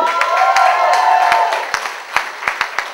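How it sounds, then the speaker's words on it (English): Applause from a crowd with some cheering, rising loud then thinning into scattered individual claps. "Give a huge round of applause."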